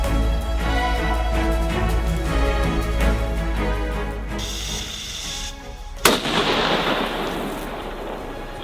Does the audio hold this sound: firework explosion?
yes